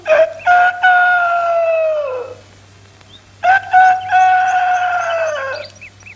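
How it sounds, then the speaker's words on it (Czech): Goose calls from a Czechoslovak cartoon, two long honking cries with a brief pause between them, loud and close with clear harmonic tone, no speech. "Husa."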